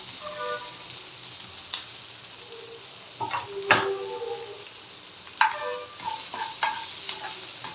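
Onion, coconut and urad dal sautéing in a pan for kara chutney, with soft stirring scrapes and light intermittent sizzle, a few sharper clinks of a spoon against the pan near the middle, no voices.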